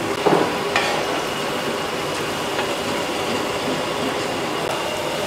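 A catering cook stirs a huge pot of chicken 65 frying in oil for a 75 kg chicken biryani, producing a steady busy scraping and sizzling wash with a few sharper knocks near the start, no talking.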